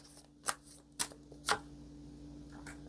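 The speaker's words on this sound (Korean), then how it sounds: "그럼 마지막으로 조언 카드 한 장 뽑아볼게요." A tarot deck is shuffled and a card is drawn. Three sharp, close card snaps arrive about half a second apart, followed by soft rustling over a steady low hum.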